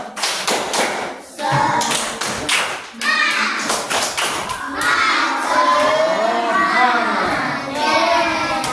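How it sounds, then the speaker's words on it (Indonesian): A classroom of children performing the rhythmic 'tepuk semangat' spirit clap during a maths lesson, sharp patterned claps and taps with children's voices shouting along, loud and close. "Oke, tepuk semangat."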